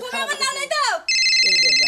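A voice talks briefly, then an electronic phone ringtone starts and rings steadily with a bright repeating trill.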